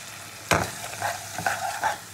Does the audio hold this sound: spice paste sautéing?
yes